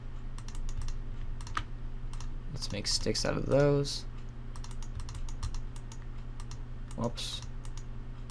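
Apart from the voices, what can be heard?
computer mouse clicking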